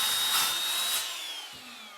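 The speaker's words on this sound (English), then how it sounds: "We have to drill a hole in the floor in order for that to come through up inside so we can fill it." A power drill whines steadily as it bores a hole through the floor of a DIY overland trailer. The high, close tone drifts slightly in pitch and eases off near the end.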